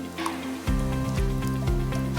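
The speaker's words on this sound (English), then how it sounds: "we're going to pour our cherries in" Cherries poured into a dessert dish, giving a thick, wet squishing slide with repeated soft glugs and plops that come close and fairly loud, with no talk.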